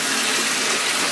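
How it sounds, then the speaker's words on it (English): Tap water gushes steadily into a small baby bathtub being filled for a bath, a continuous close, loud broadband rush with no break. "I got the water going in here for baby girl."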